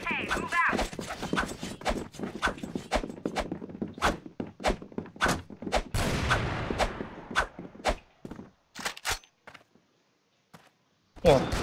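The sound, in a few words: automatic gunfire in video game CrossFire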